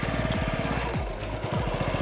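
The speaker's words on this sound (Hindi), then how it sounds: "और फाइनली सुनीता ने जो है बाइक चला ली।" A small motorbike engine chugs close by as Sunita rides it along a farm field, a rapid, uneven putter that dips briefly then picks up again.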